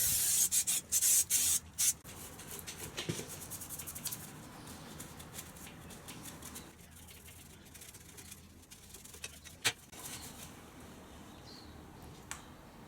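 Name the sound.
brushing lubricant spray into motorcycle chain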